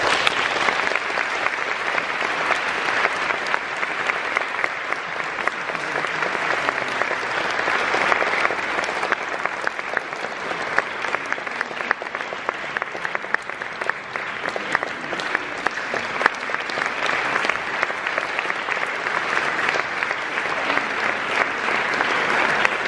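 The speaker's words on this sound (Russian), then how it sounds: "Аплодисменты." An audience applauds after a speech at a university choir's centenary celebration: dense, steady clapping from a large crowd that continues evenly for over twenty seconds without pause.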